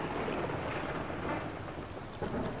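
A hailstorm with thunder in the game Nightingale: steady dense pattering of falling ice over a low rumbling storm backdrop, moderately loud and continuous, with no voices.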